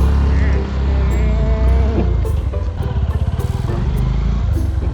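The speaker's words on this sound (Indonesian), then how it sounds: "Gua bawa motor yang benar apa, Bot?" A motorcycle rides along with a loud, close engine drone that shifts into a throbbing, pulsing rhythm, with people talking over the noise.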